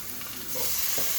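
Onions fry in a pan, giving a continuous hiss that grows slightly louder partway through, with soft stirring scrapes and no voices.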